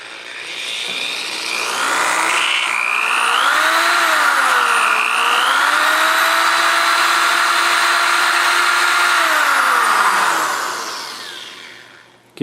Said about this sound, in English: You will take your drill,